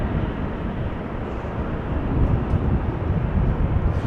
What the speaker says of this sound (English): Is something landing or taking off in the background?